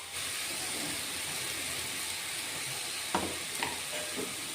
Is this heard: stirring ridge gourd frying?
yes